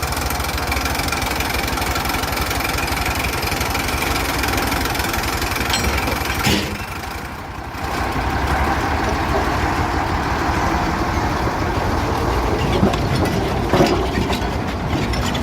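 A PG Jatiroto sugar mill locomotive running, its engine knocking and rumbling steadily at close range with rail and wagon noise, a brief dip in loudness midway, then the heavy churning sound resumes; no voices.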